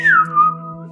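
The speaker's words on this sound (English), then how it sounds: "And so I whistle that little tune" A person whistles a short tune at a gaming table during a Dragonbane fantasy role-play session at Gen Con 2024, a clear, close whistle gliding downward with no talk over it.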